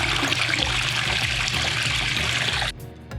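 The waterfall feature of a Sundance 880 series hot tub spa runs as a steady, loud rush of splashing water that stops abruptly near the end.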